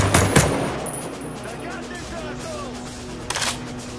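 Sniper rifle shots in rainy-night Ghost Recon Breakpoint gameplay: a sharp crack at the start and another near the end, over steady rain ambience and faint radio-style voices.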